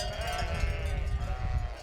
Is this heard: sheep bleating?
yes